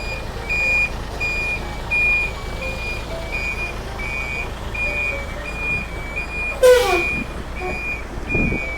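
A Hino Mega 500 truck's reversing alarm beeps in a steady repeating pattern over idling engine noise, with a brief hiss of air brakes near the end.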